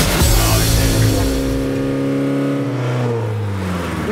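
A Peugeot 205 GTI fitted with an exhaust baffle revs hard at a track noise test, a loud close engine roar that winds up and then drops away steadily toward idle.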